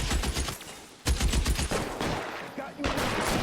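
Dense, overlapping gunfire in an LA Noire shootout: rapid bursts and single shots crack in close succession, loud and near, with shouting voices mixed in among the shots.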